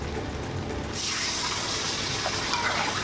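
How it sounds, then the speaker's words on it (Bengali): Water poured into a pan of potato curry (Kashmiri aloo dum), a steady close gush of liquid that swells after a second and keeps running to the end. "এবার আমি জল ঢেলে দেবো"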